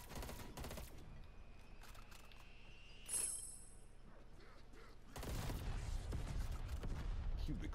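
Gunfire in Call of Duty: Black Ops Cold War Zombies, heard as loud broadband bursts of shots near the start, again around three seconds, and a sustained dense volley through the final seconds.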